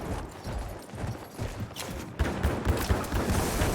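A horse's hooves thud in a quick galloping rhythm in Battlefield 1's desert. The gait is heard close and steady over a busy backdrop of scattered gunfire.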